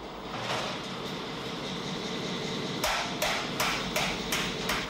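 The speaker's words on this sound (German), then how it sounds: "Mit Hammer und Eisengewicht wird er in die gewünschte Form gebracht." A coppersmith hammers a copper whisky still's swan neck into shape against an iron weight, giving a steady, close, ringing rhythm of metal blows that grows louder and more spaced out toward the end.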